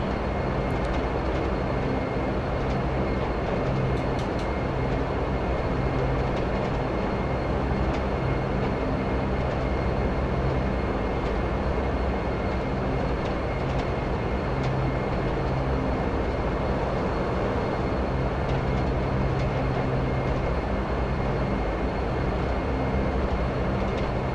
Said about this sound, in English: I just love the sounds of the Dash. Especially when you move the throttles into the ground range.